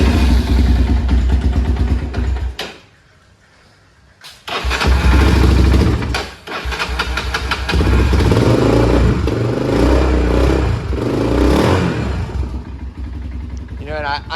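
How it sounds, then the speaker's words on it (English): A dirt bike engine with a stock OEM Keihin carburetor is revved hard with the throttle. It roars loudly up close, drops to near silence briefly, then fires back up and revs on with rising and falling pitch. "Let's give it a couple throttles."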